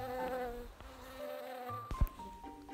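A bee in an animated children's fable buzzes steadily with a wavering, insect-like drone over soft background music, briefly interrupted near the end by a sharp accent.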